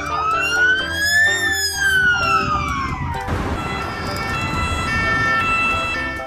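A toy ambulance siren wails loudly in rising and falling electronic tones, then switches to a different steady pattern partway through, close and continuous with no talk over it.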